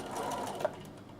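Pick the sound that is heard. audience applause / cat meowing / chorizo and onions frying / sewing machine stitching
sewing machine stitching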